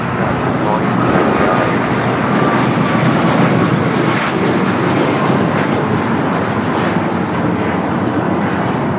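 At LAX, an airliner's jet engines roar in a steady, broad rumble for its whole takeoff run, loud and unbroken, with radio voices faintly underneath.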